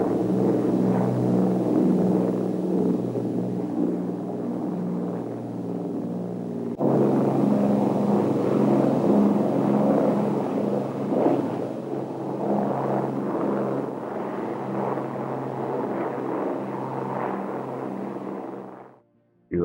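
An Avro Lancaster bomber's four Merlin engines run together as a dense, steady droning roar with a throbbing low hum, loud and continuous. It shifts level partway through, then cuts off abruptly at the end.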